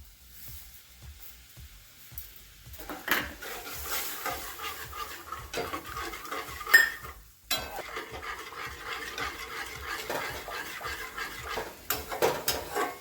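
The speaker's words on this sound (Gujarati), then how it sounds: "જ્યાં સુધી દૂધ બળી ન જાય ત્યાં સુધી એને હલાવા કરવાની છે" Milk stirred in a pot for sweet sev, a soft steady scraping and swishing with faint clinks of the spoon against metal, continuing for several seconds at low volume with no talk.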